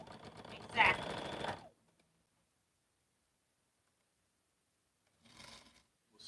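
A sewing machine stitches a quilt in a quick, busy burst at the start. It falls silent, then a shorter burst of stitching returns near the end.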